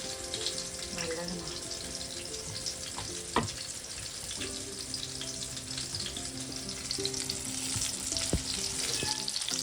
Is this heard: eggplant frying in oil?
yes